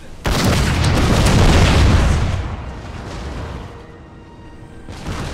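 A heavy cannon boom with a long rumbling tail echoes across a hot desert battlefield in the game Napoleon: Total War. A single loud blast fades out, and a fainter sound follows near the end.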